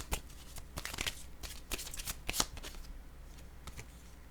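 Tarot cards are shuffled and drawn in quick, close riffling bursts, a series of crisp papery flicks and snaps with short gaps between them.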